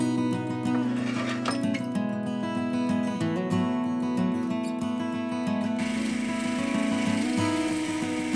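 A wood lathe spins as a tool cuts off the tail piece of a turned wooden workpiece, giving a steady, loud whirring drone with tonal motor hum and scraping cutting noise throughout, with no talking.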